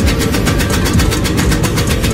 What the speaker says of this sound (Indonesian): video review mesin tembakau buatan asli Rembang tiruan replika